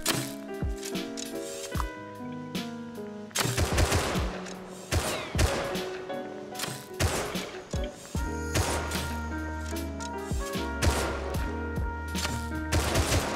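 Gunfire in the survival video game Rust, with rapid bursts of close, loud shots fired repeatedly over sustained tonal game sound, almost without a break.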